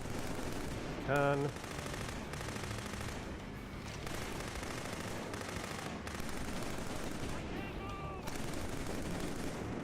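Rifle gunfire in the video game Killzone 3: steady, continuous rattling fire sits under a constant battle din, fairly faint and distant, with brief voice fragments breaking through.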